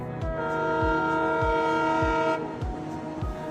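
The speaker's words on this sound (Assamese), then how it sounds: "আমাৰ ৰেলখন উকি মাৰি সোমালহি আইজলত" A test-run train entering Aizawl station in Mizoram sounds a long, loud whistle over the regular rhythmic clatter of its wheels, with the whistle cutting off before the end.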